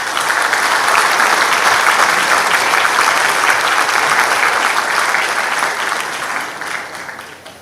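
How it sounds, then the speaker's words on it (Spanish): An audience at a seismic risk forum gives sustained, loud applause that holds steady for several seconds and then tapers off toward the end. "economista Milton von Hesse Lacerna, a quien pedimos un fuerte aplauso, por favor."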